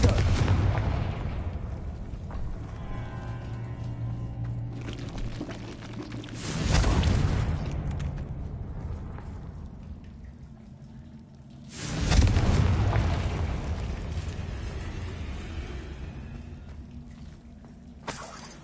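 Confringo fire spells in Hogwarts Legacy go off as two heavy booming blasts with long rumbling tails, set against a continuous low game soundscape, and no one talks.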